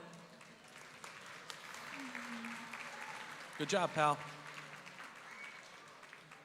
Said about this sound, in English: round of applause for Colin